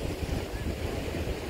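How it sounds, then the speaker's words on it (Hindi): Fast-flowing canal water rushes steadily alongside strong wind buffeting the microphone, a continuous loud roar with no pauses and no one talking. "पानी बहुत ही तेज चल रहा है नहर का, हवा भी बहुत तेज चल रही है"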